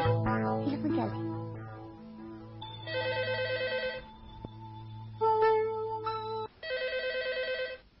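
A telephone rings in a Uyghur film scene, with repeated electronic bell trills in bursts that start and stop, fairly close, and background music and voices are heard around the rings.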